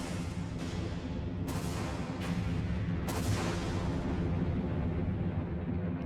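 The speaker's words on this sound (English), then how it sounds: "And then carrier explosion for the 4th time." In Sonic Adventure DX, the carrier explodes in a series of booming blasts, four or five sharp bursts over a sustained roaring rumble, loud and close.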